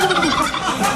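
A turkey gobbles loudly and close by, one rapid, warbling burst of throaty calls that fills the whole moment with nothing else heard.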